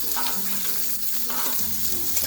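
Two small sliced onions dropped into garlic frying in oil in a pan for a drumstick-leaf chorchori, a steady close hiss of sizzling with occasional faint stirring, no speech.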